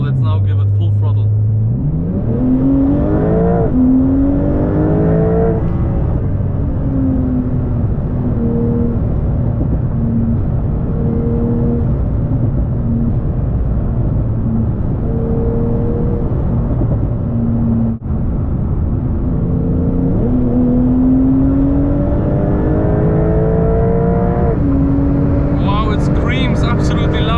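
TECHART-tuned Porsche 911 992 Turbo S, 710 hp, at full throttle on a road: loud, close engine climbing through several gears, each rising sweep broken by a brief shift dip, with a sharp pop near the end.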